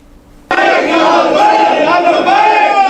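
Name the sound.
crowd of devotees chanting Labbaik slogans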